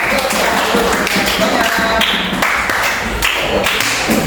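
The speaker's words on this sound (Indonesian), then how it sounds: "tepuk tangan untuk teman-teman kita yang sudah terima" A class of students at SMPN 1 Marau clapping together for classmates, loud, close and continuous, with bright overlapping claps.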